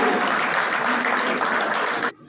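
An audience at an award ceremony for Vishwakarma Jayanti gives a dense, steady round of applause for an honoree. It stays loud and continuous, then cuts off abruptly near the end.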